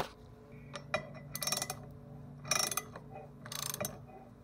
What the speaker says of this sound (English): I'm torquing down the last three bolts now